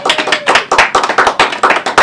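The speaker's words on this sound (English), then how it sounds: "Let's give it up for those Christmas toys this holiday season." Studio audience applause on a late-night talk show's Christmas special, a brief close burst of brisk, rhythmic clapping from a small group.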